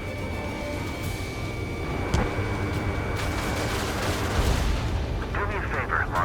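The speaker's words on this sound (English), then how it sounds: "missile launched" A missile launch amid gunfire in the Ace Combat 7 air combat game, with a sharp burst and rumbling explosions over a constant engine roar and radio chatter in the background.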